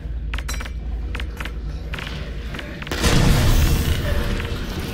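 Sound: grenade explosion in video game Half-Life: Alyx

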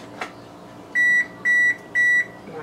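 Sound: oven beeping to signal it has preheated

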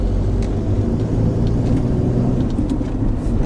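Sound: car engine revving while rev matching on a downshift

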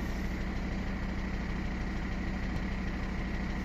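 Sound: Mercedes W211 engine idling with detonation knock

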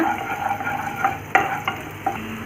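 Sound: garlic sautéing in hot oil

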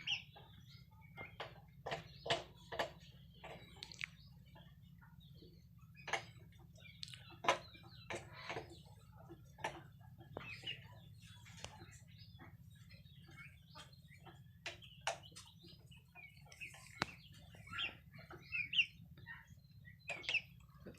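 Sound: chickens clucking, Thai crossbreed flock

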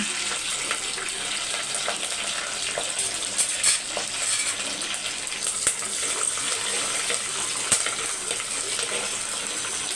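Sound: mustard seeds, dried and green chillies, curry leaves frying in oil

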